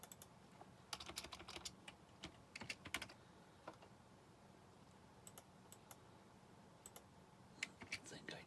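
Computer keyboard typing during a reverse-engineering session for a TRS-80 emulator, with irregular bursts of quick, fairly faint keystrokes separated by pauses and low room noise.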